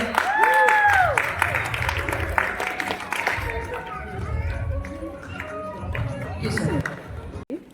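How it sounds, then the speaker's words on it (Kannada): Applause breaks out from an audience at a Kannada Rajyotsava celebration held by a Kannada association in Cape Town, South Africa. It is a dense, steady clatter of clapping mixed with crowd noise and voices, trailing off slightly toward the end. "ಬರ್ಲಿ ಜೋರಾದ ಚಪ್ಪಾಳೆ"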